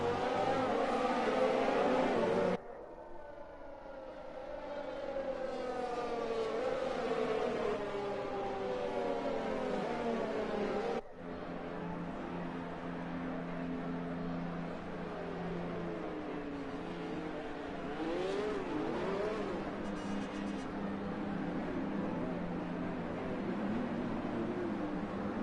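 Race cars on a formation lap at Bahrain in a racing video game, engines droning and rising and falling in pitch as cars pass, fairly faint and steady, with a sharp cut partway through.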